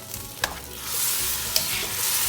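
Pad thai noodles with chicken and shrimp being stirred and tossed in a hot pan with tongs, a steady sizzle broken by a couple of sharp metallic clicks from the tongs.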